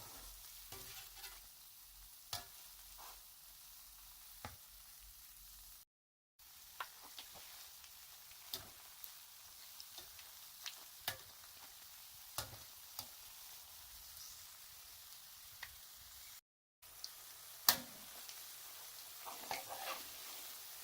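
Beignet batter (sweet African gbofloto) fries in very hot oil, a steady quiet sizzle with scattered crisp pops and ticks over about twenty seconds, interrupted by two brief silent gaps.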